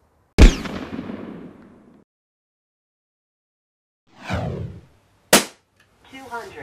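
An FAS 6004 air pistol, charged by closing and pushing down its top part, fires two sharp, loud close-up cracks several seconds apart, with softer mechanical handling sounds between them.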